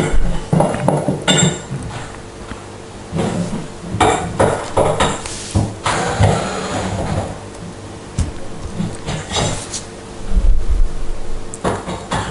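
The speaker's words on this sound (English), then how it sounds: "And now I'm disassembling the legs which come fixed underneath the bath." Metal clanks, taps and scraping knocks as screws are undone and legs are removed from underneath a bath, irregular and close, with short pauses between bursts of handling noise.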